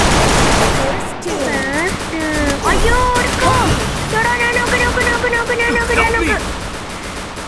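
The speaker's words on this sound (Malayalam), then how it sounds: "okay വെടിയുടെ sound" Rapid bursts of gunfire in the mobile battle game Free Fire crackle over a player's excited chatter, with sharp shots and whistling, sweeping game sound effects throughout.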